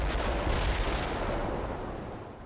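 Artillery fire in the World in Conflict: Soviet Assault video game lands as one heavy, booming blast that rumbles broadly and slowly fades away over a couple of seconds.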